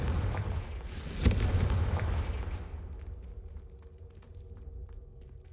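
A Confringo explosive spell goes off in Hogwarts Legacy with a loud, sharp blast followed by a long, rumbling roar that slowly fades into faint crackles and ambient game sound.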